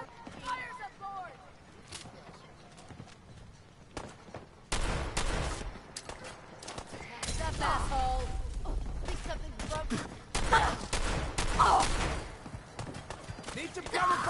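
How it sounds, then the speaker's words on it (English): Gunfire in the video game Fallout 4: irregular bursts of sharp shots cluster into heavy volleys midway, mixed with in-game voices and other battle noise. "Need some cover fire over here!"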